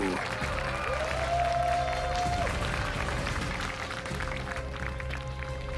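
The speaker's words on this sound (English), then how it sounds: "We can now hear you clapping and cheering" Steady applause from a large esports arena crowd at IEM Katowice 2022 StarCraft II, with scattered cheers, dense and continuous, with a tonal electronic hum running through the first part.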